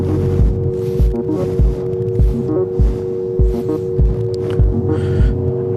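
An Audi TT RS drives a timed lap on a track, its engine a loud steady hum with rhythmic throbbing thumps recurring roughly every half second, and no talk over it.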